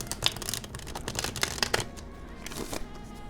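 Rapid riffling bursts of tarot cards being shuffled, crisp papery flutters repeating in quick clusters, close and fairly loud with no talking.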